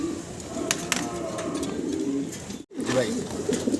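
A black pigeon coos repeatedly from inside a clay pot, making soft, low, throaty calls, while someone talks over it nearby.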